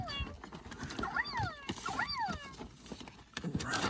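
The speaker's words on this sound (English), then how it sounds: "the little hamster that's making a noise" A toy hamster gives a few squeaky, warbling electronic chirps that rise and fall in repeated bursts against a noisy, rummaging background. Someone talks faintly underneath.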